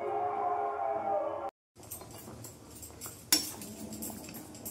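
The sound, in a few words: stirring pithe cakes in a cooking pot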